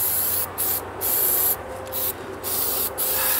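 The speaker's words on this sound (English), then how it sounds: "There we go. Spray lube." An aerosol can sprays lubricant in several loud, close hissing bursts, separated by short pauses over a steady background hiss.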